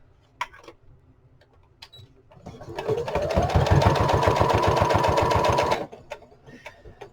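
A sewing machine stitches pockets on a paper lapbook, a fast close mechanical chatter with a rising whine that runs for about three seconds, framed by scattered handling clicks before and after.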